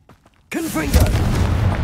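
Confringo blasting spell explosion in Hogwarts Legacy: a half second of near quiet with faint voice traces, then an abrupt loud boom with crackling, warbling magical tones and a sustained rumbling tail.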